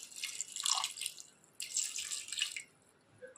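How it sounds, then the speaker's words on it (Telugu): Water poured into a pot of mango dal (raw mango and lentils) before pressure cooking: two short, splashy pours with faint drips between, close and fairly quiet, no talking. "ఇప్పుడు మనం దీంట్లో కొంచెం వాటర్ వేసుకుందాం."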